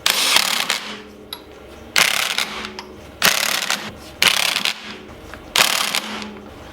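An impact driver fitted with a tape-wrapped socket rattles on the wheel nuts of a Ford Escort RS Cosworth in five loud, close bursts of hammering, each about a second long, separated by short pauses.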